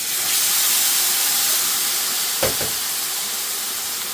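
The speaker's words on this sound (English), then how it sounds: "Next we're going to add some diluted tomato puree." Diluted tomato puree poured into a hot pan of cooking onions for Bombay potatoes, a loud continuous hissing sizzle with a brief splashy burst as the liquid hits, then a steady bubbling hiss.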